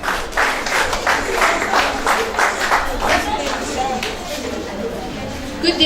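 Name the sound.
school audience applause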